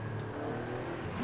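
A twin-turbo V8 swapped DeLorean DMC-12 in Forza Horizon 5 accelerating hard on a straight, a steady loud engine drone rising slightly in pitch over a brief moment, with no talk.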